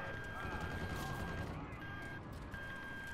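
A continuous, fairly distant rattle of gunfire from the video game Call of Duty: Infinite Warfare, with overlapping shots forming a steady crackling barrage over a noisy battlefield background.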